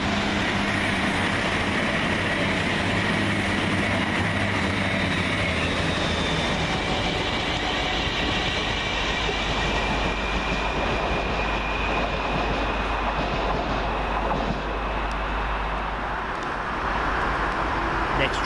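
Class 221 units 221-117 and 221-105 run through Milton Keynes Central station on a London Euston to Birmingham New Street service, giving a loud, continuous rolling rumble that fills the whole stretch.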